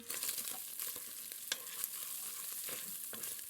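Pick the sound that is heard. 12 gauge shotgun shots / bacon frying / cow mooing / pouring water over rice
bacon frying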